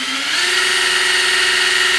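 A power drill whirs steadily and loudly without pause while working on a valve during a 400 cubic inch small-block Chevy engine build.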